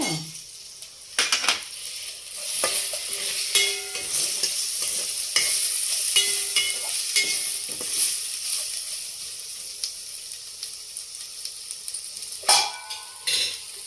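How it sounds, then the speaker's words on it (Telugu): Tomato pieces sautéed in a pan for sambar, with a bright continuous sizzle and scattered clinks and scrapes of a spoon against metal, close up and without talk. "కొంచెం బాగా వేగిన తర్వాత టమాటా ముక్కలు వేసుకుందాం."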